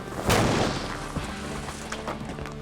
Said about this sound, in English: I'd say that was an explosion.